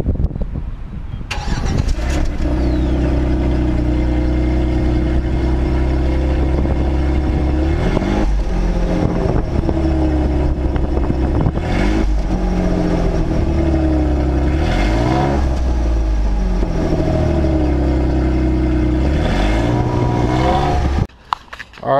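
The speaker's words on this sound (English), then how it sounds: "we're going to do a sound clip of the stock exhaust" A Jeep's stock exhaust idles with a steady low rumble, then revs up and settles back several times, loud and close, with no talking.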